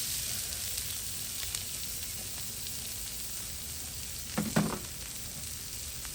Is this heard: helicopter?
no